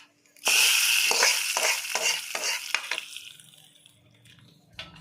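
Spices crackling and sizzling in hot oil as a tempering for bottle gourd kootu, a loud burst of frying with stirring that fades to a softer hiss, with no talking.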